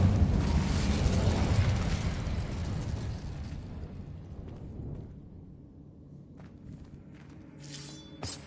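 Incendio fire spell cast in Hogwarts Legacy on PS5, a loud roaring whoosh of flame that bursts then slowly fades, followed by a few faint clicks and a brief chime.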